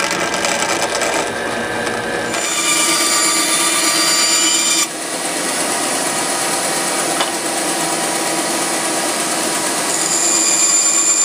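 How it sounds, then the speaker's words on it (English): Power drill boring into a wooden slingshot blank, a steady loud whir with a ratcheting rasp that holds for the whole stretch, with no talk over it. "Some drilling."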